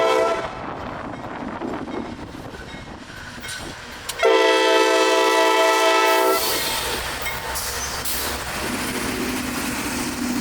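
A CSX freight train rumbles through the strawberry fields of Edison on the Bone Valley phosphate line, sounding a loud, sustained horn blast midway, with engine drone and a rolling rumble from the cars around it.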